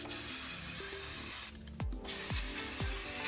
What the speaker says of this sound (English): I'm gonna go ahead and spray some brake cleaner in here just on these shoes.